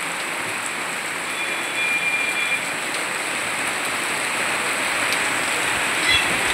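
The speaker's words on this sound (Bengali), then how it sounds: "প্রচুর বৃষ্টি হচ্ছে" Steady, dense hiss of heavy rain falls continuously, an even broadband wash with no talking.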